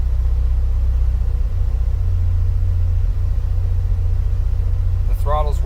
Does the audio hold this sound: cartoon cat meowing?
no